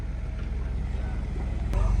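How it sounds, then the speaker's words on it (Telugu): A large houseboat on the Alleppey backwaters in Kerala passes close by, its steady low engine rumble and water wash continuous throughout, with wind buffeting the microphone and a slight swell near the end. "ఒక పెద్ద హౌస్ బోట్ మా పక్క నుంచి వెళ్తుంది."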